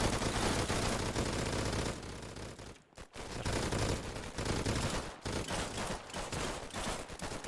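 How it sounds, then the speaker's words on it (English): Sustained bursts from an MG42 machine gun in a war video game, loud and close, with a brief pause near the middle and shorter breaks toward the end, no voices. "See if this MG42 works. Yes, it does."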